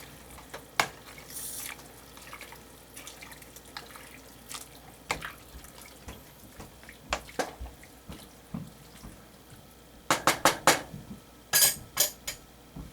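Cabbage stirred around in a cooking pot at home, with wet clinks and scrapes against the pot rising into a quick cluster of sharp knocks near the end, close by over a low background.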